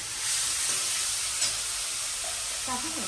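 Potato with masala fries in oil with a steady, close sizzle. A spoon stirs it now and then, and a faint voice is heard near the end.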